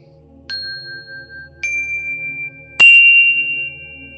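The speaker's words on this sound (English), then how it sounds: "bring in the chimes" Three clear chime strikes during a live oracle card unboxing session, each a bright ringing tone that rings on; the strikes come about a second apart and the last is the loudest, all heard alone with no voices.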